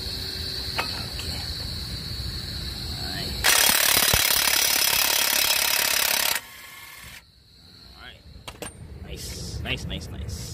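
A DeWalt power tool, likely an impact gun, rattles off the 32 mm axle nut of a 2002-2006 Nissan Altima: one loud, steady burst of about three seconds, with quieter shop noise and clanks around it.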